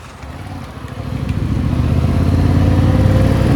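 A Yamaha MT-07 motorcycle riding on the road toward Gölyazı, its steady mid-pitched engine drone building slightly and holding loud and close under a constant rush of wind.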